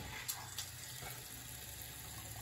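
A newly installed bathroom vanity faucet running after being turned on, a faint, steady hiss of water flowing into the sink with a couple of small clicks near the start.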